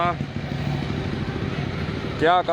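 A motorcycle engine hums in a steady low rumble on a road where traffic police stopped riders who had turned back to flee, with voices talking at the start and end.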